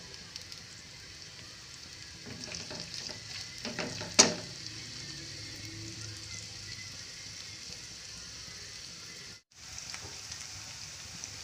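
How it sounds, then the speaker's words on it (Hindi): Onion and cumin frying together in a pan make a steady, fairly quiet sizzle, with one sharp clink midway and a brief drop-out near the end; no one talks. "प्याज और ज़ीरा मैंने एक साथ"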